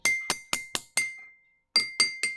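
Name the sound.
striking a drinking glass partly filled with water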